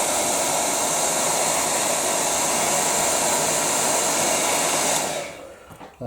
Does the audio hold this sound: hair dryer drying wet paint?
yes